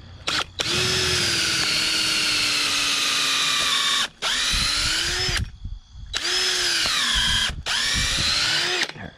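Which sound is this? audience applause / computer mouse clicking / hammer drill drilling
hammer drill drilling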